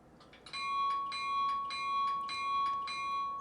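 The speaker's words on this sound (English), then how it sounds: "So function 1 should be the bell." Bowser HO scale BC Rail SD40-2 model locomotive sounding its bell, a bright electronic ding repeating at a steady even rhythm, about six strikes over a sustained ringing tone, clear and alone.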